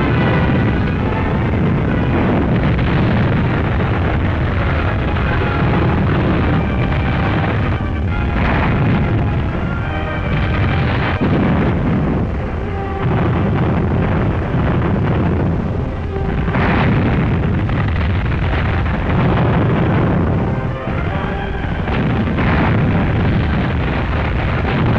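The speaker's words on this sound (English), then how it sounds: "Guns support the attack by laying down a terrible barrage around our beachhead" A barrage of 240mm super heavy artillery shells, each weighing 360 pounds, pounds a beachhead in wartime, with deep continuous booms and overlapping explosions rolling loudly and without pause.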